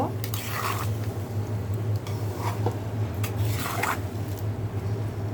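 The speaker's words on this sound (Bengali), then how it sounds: "এখন এটাকে মশলার সাথে ভালো করে মিশিয়ে নিব।" Boiled olives being stirred into spices for a tangy pickle, with several soft squelching, scraping stirs against the pot over a steady low hum, close and moderately loud.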